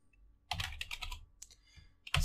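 Quick, close clatter of keystrokes on a computer keyboard while code is entered, a burst of rapid taps followed by a few spaced clicks, with no one talking.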